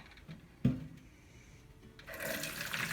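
Strained homemade vegetable stock made from food scraps pours into a storage container, a steady liquid rush that builds over the last second after a brief knock near the start.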